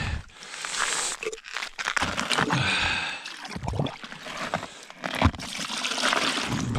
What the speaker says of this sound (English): By splashing it around, it creates oxygen in the water too.